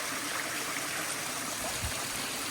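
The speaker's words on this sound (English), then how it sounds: "So I made it up to Splitter Falls." Steady rushing water at Splitter Falls, a waterfall in the Grampians, a continuous broadband roar heard close and loud with no voices.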